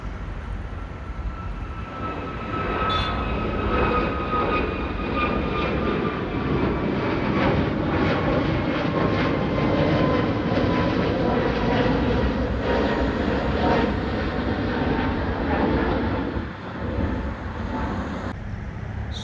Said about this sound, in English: that's the 321LR of Etihad Airways now taking off